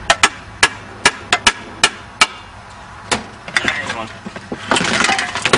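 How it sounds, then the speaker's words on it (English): Automatic transmission case halves are pried and hammered apart: a string of sharp metallic knocks and cracks in an uneven rhythm up close, followed by scraping and grinding as the halves shift, with someone speaking briefly. "So now we'll see if we can bust the"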